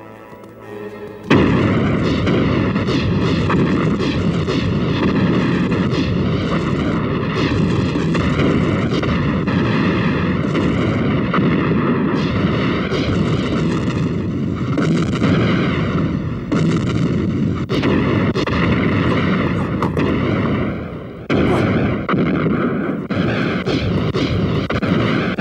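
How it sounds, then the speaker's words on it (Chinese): Heavy cannon and artillery bombarding a walled city, a dense, continuous, loud roar of blasts that barely lets up. A brief dip comes near the end, and no voices are heard. "火炮用足，要对九江城昼夜轰击"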